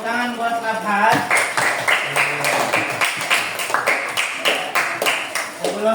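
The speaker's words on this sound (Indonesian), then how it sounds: "tepuk tangan buat Kapas" Clapping for a presenter in an Indonesian teacher-training class session, a run of sharp rhythmic claps of moderate loudness after a voice speaks, with speech returning at the end.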